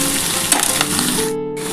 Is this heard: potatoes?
yes